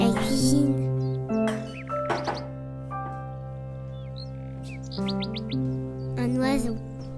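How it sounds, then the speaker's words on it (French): Bright bird chirps and tweets repeat in short bursts over a steady tonal background hum, with a brief pause in the middle and a cluster of quick trilling calls near the end. "Un oiseau."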